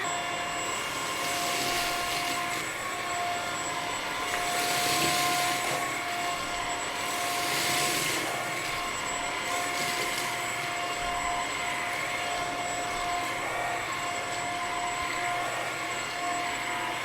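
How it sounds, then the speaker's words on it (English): A Bissell CleanView XR Pet vacuum cleaner runs steadily on carpet, giving a loud, continuous motor whine with a breathy airflow rush that swells and eases as it moves back and forth. "I really liked this vacuum on carpet"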